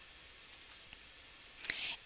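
A computer mouse being clicked during software work, several faint, sparse clicks followed by a brief louder click and a short burst of light rustling, heard alone in a quiet room.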